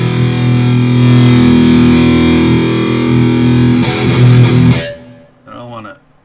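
Distorted electric guitar played through a Line 6 TonePort GX interface with GearBox amp modelling, a loud, dark, sustained chord that rings for about five seconds, then cuts out, leaving a brief quieter strummed tail.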